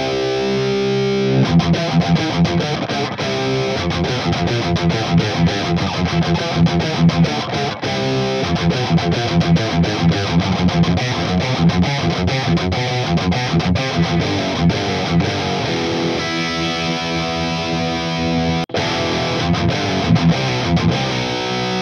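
A heavily distorted electric guitar through a Victory VX Kraken MK2 amp plays loud, dense, chugging riffs with a thick, saturated tone that keeps going for the whole stretch.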